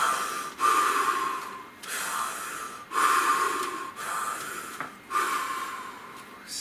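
Deep cyclic breathing, several long audible inhales and exhales in a slow repeating rhythm, close and fairly loud, with no speech.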